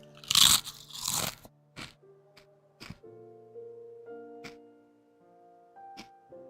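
Crunchy bites and chewing of Pringles potato chips, several loud close crunches at first, then sparser single bites with some quiet rustling between them, with no one talking.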